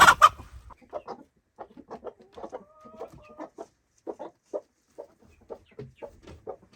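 A broody hen giving low, grumbling clucks in quick, irregular bursts at close range, with a louder squawk at the start and no talking over it.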